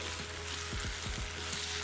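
Steady sizzling and frying from a hot pan over high flame as chicken and bok choy are stir-fried, with a few scraping stirs of food and utensil, continuous and fairly close.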